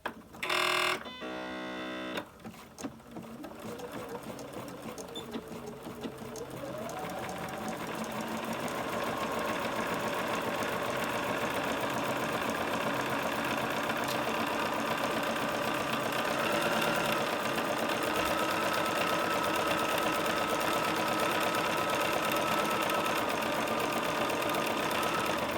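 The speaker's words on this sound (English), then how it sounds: "I'm just going to put the needle down and start sewing." A sewing machine runs a zigzag stitch through fabric for a composition notebook cover, starting with a few short bursts before settling into a long, steady, close mechanical whir.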